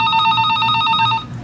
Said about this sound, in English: you keep calling back, they keep hearing this ringtone